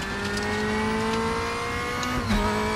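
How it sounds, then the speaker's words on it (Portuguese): Racing game engine noise from a DTM BMW car in RaceRoom, a steady droning whine with a brief skid and tire squeal near the end, loud and continuous with no talk. "Cuidado para o carro derrapar."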